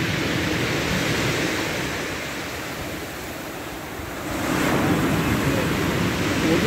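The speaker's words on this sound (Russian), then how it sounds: "Вот это волна." Broadband roar of Sea of Okhotsk waves washing in continuously, swelling louder toward the end, with wind buffeting the microphone.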